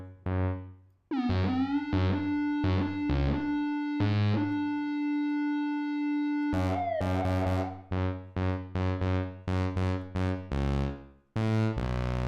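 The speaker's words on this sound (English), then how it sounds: "we built a custom bass synth that you can use in all your productions" Custom-built bass synth with drive and reverb, playing a run of short, punchy distorted notes, then a long sustained tone, then another quick staccato phrase with reverb tails, loud and alone with no voices.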